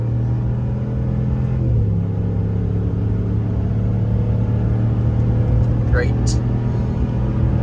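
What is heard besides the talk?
Ram 1500 pickup truck towing, driving onto highway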